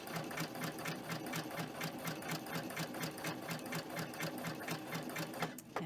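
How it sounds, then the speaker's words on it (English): A sewing machine runs a double-needle zigzag stitch, a close, fast, even rhythmic clatter of needle strokes held steady for several seconds before stopping, with no voices. "So I'm just going to go straight ahead and do a zigzag."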